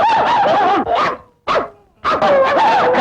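Several dogs barking and yipping loudly at close range in repeated bursts, with a brief quiet gap midway before the barking resumes.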